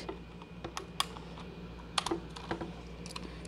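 A Motospeed CK61 mechanical keyboard with blue switches is typed on, giving close, crisp clicking keystrokes in an irregular burst with a few sharper louder presses.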